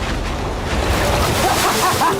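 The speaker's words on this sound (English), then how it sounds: "Those waves look really big over there. And they're coming right at us." Big ocean waves roll in toward a small boat headed for an island, a loud rushing surf wash mixed with wind buffeting and a few faint higher squeaks.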